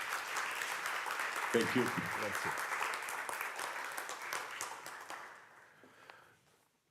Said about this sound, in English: I'd like to have a big applause for Mr. Viola